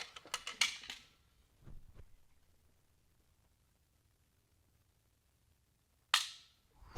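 Trigger pull on a Muley Freak Wombat Action bolt rifle by Stiller, chambered in .25 Creedmoor: a few sharp mechanical clicks at the start, a soft thud soon after, then one more crisp snap near the end, with no talking.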